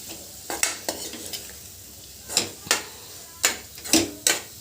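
A spoon stirs peanut powder into a sweet-and-sour vegetable curry in a pan, making several close scraping strokes in an irregular rhythm over a soft sizzle, with no talk.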